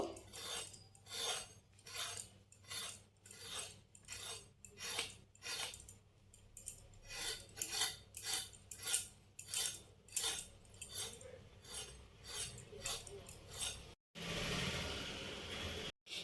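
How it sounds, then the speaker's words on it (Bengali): A knife scrapes the skin off snake gourds in a kitchen, producing a steady series of close, quick rasping strokes in an even rhythm, with a brief louder scuffing at the end. "চিচিঙেগুলোর গাটা পরিষ্কার করে চেঁচে নেব প্রথমে"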